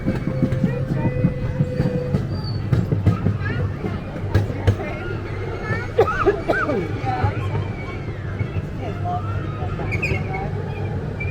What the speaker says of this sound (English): The train comes to a complete stop.